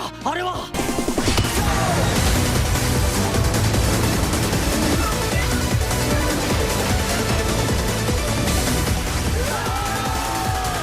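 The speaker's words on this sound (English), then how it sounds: "Then we get a little bit of battleship combat." Dense gunfire from a battleship combat scene in a film, a loud continuous barrage of shots and blasts mixed with music and shouting voices.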